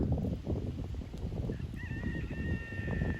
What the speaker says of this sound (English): we are here at the chicken flock